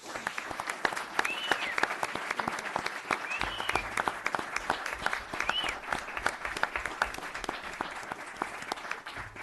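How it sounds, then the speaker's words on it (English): A town board meeting audience gives a round of applause for a detective, steady moderate clapping from a modest crowd with a few faint voices rising over it. "a nice round of applause for Detective Dan Curtis"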